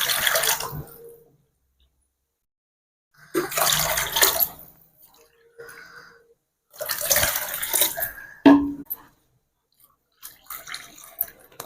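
Water is poured in several separate bursts into rice and masala in a village kitchen, each splashing pour lasting a second or two with quiet gaps between.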